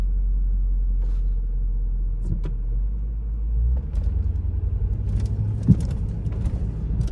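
A 2006 Chrysler 300 SRT8 engine drones steadily from inside the car, a low continuous rumble that deepens and roughens as the throttle opens partway through. Faint clicks and road noise sit on top, and no one speaks.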